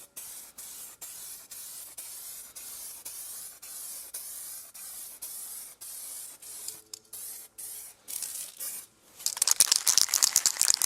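Aerosol spray paint misted onto Porsche 911 rear brake calipers as a first adhesion coat, a rhythmic run of short hissing bursts, then a rattling can shake near the end.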